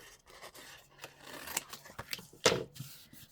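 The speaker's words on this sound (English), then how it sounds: "I'm just going to roughly cut this out." Scissors roughly cutting out a scrap craft piece, heard as a few quiet snips and paper rustles, with one sharper, louder cut near the end.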